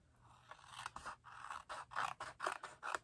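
Scissors trimming white cardstock for a handmade valentine card, a quick series of about a dozen crisp, close snips and scrapes at a quiet level with no talk.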